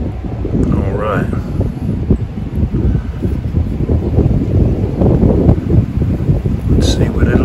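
Damp, gusty outdoor wind buffets the microphone during a bow drill fire-making attempt on water oak, a loud continuous low rumble with rustling bursts throughout, no clear talk over it.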